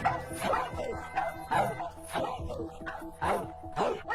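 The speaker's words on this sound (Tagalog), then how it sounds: "Pero tinahol siya ng aso." A dog barks and yips in repeated bursts, about five or six sharp calls spaced roughly half a second to a second apart, close and moderately loud.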